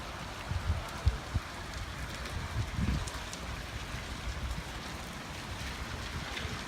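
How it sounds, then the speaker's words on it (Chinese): Heavy rain pours steadily with gusting wind during an unusual early-spring downpour while snow still lies on the ground, a dense continuous hiss with occasional louder drops and low rumbles. "听到这风声和雨声，"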